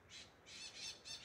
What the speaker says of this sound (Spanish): un montón de pericos huyeron. ¡Griten, pericos!